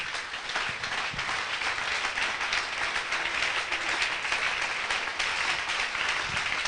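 A French-speaking church congregation applauding during a sermon: a dense, steady wash of clapping that holds at an even level from start to finish, with no clear breaks and no talk over it.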